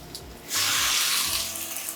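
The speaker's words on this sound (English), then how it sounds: "So we'll let the squash cook for about 10 minutes. I added a little bit of water in there to help it steam" Squash cooking in a pan with a little added water gives off a sudden loud hiss and sizzle of steam that starts abruptly and holds steady for a moment.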